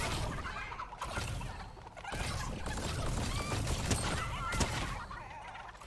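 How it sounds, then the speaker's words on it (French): A chicken in a video game clucks in short bursts over a busy, crackly game soundscape with clattering effects, fairly loud throughout. "La poule."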